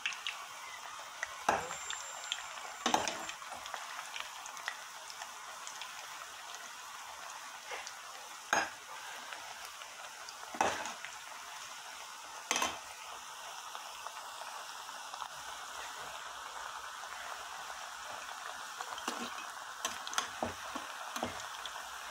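Plantain slices frying in a pan give a steady, quiet sizzle, punctuated by occasional sharp clicks and taps of a utensil against the pan, with no voices.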